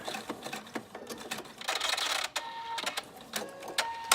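A Husqvarna Viking Ruby Royale sewing machine finishes a buttonhole stitch with a rapid mechanical whir, pausing and restarting in short stitching bursts, loud and close with no voices.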